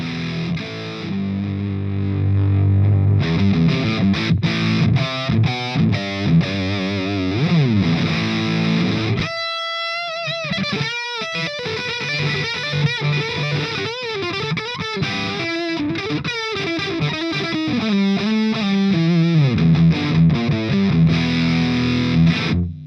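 Electric guitar through a Flattley Outlaw dual clean and Plexi overdrive pedal plays bending riffs and sustained notes with gritty overdrive, loud and saturated, with a brief pause in the middle.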